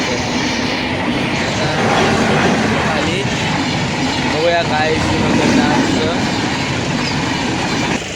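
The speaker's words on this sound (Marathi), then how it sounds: "ट्रेन गेले" A train rolls past a railway level crossing with steady, loud rumbling and clickety-clack of wagons on the rails, continuous throughout, while someone talks briefly over the noise.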